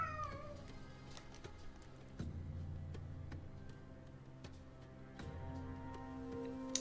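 A pet cat meows and yells to be let outside, its calls heard over steady game music and background sound, with a few repeated cries through the stretch.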